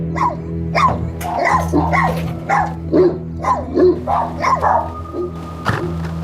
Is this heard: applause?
no